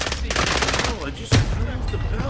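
Automatic gunfire with incendiary rounds in the shooter game Call of Duty: Modern Warfare, a rapid rattling burst followed by a heavy shot and a few scattered cracks, loud and close, with a voice partly beneath it.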